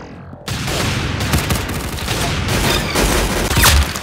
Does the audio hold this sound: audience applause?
no